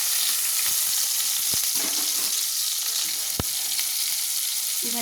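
Green chillies and a bay leaf fry in hot oil for ghugni, giving a steady, close, even sizzle with a few soft stirring knocks from a spoon in the pan.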